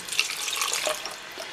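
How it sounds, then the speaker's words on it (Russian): Homegrown garden lemons rinsed under a running kitchen tap, water splashing and trickling close by in a short, steady stream with shifting patters as the fruit is turned. "Поэтому их надо хорошенечко промыть."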